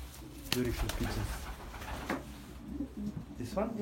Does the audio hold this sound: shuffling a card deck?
no